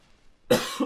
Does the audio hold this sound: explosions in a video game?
no